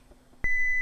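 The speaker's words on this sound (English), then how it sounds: "That's the timer." Kitchen timer going off while fish and asparagus steam: after a quiet stretch, a single loud, steady high electronic beep rings out and holds to the end.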